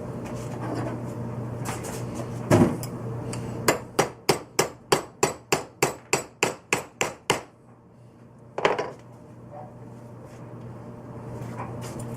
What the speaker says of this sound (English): after a little crushing in my other vise and a little bit of time with my hammer